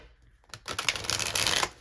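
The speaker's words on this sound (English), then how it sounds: "Let me just give it one more quick shuffle." A tarot deck gets one more quick shuffle, a loud, close flurry of card flutter and clicking that builds and then cuts off.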